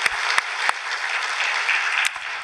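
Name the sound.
congregation applause in church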